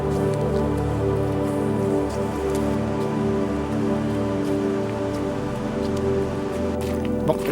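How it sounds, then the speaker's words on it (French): Steady rain pattering on surfaces during a misty mountain hike on the Chamonix–Zermatt Walkers Haute Route, a constant even hiss close by with no voices. "on a eu de la brume et de la pluie"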